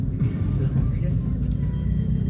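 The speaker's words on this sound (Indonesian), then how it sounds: "Seperti biasa macet begini sudah jadi langganan" Congested road traffic on Jalan Ir Juanda in Ciputat, in front of a campus: a steady, low engine rumble of idling and slowly moving cars and buses, close and continuous, with a faint voice in the background.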